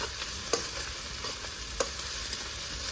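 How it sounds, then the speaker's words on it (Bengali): Onions frying in oil in a pan while a village-style tilapia curry is prepared, a dense continuous sizzle close by with a couple of sharp spatula knocks. "পেঁয়াজটা লাল লাল করে ভেজে নেবো।"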